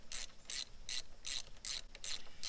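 Ratchet wrench loosening bolts on a BMW 135i with the N54 engine, seven evenly spaced bursts of rapid pawl clicking, close and fairly quiet with no talking.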